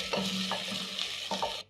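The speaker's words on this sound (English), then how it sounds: "Saute the onions for around a minute until they have a nice golden color." A large white onion sautés in hot cooking oil over a medium-low flame, giving a steady, close sizzle with a few soft stirring scrapes across the pan.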